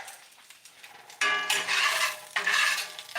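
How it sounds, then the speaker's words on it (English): Metal utensil scraping liver and onions across a cast iron skillet, two loud bursts of rough scraping and clatter after a quieter start, close by with no talking. "Hope nobody minds the sound of the scraping on that"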